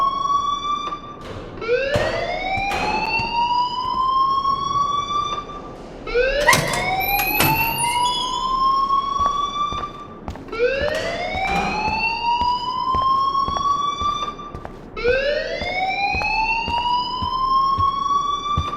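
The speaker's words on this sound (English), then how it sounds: "please turn off that alarm since that's your job." An alarm rings in the video game Life is Strange, four repeated rising electronic whoops spaced a few seconds apart, loud and steady over a constant background hum.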